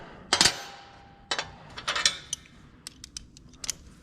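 A wrench works a 9/16 bolt loose on a John Deere 4840 tractor during an overhaul, giving several sharp metallic clicks and ratcheting bursts at irregular intervals, close up with no talk.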